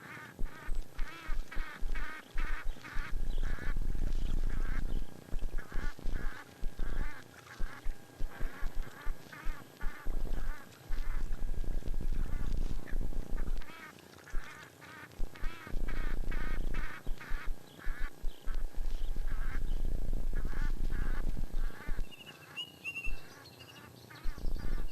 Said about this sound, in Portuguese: O pântano logo se alarga e dá lugar a poços esparsos, com seus belos nadadores, os gansos egípcios